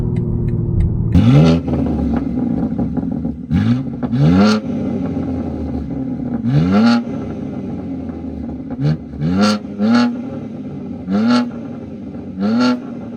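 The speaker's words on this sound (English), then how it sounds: "do an exhaust comparison" A BMW G80 M3 exhaust revved in a series of short, loud blips, each rising sharply and falling back to a rumbling idle, repeated about eight times at uneven intervals with no talking.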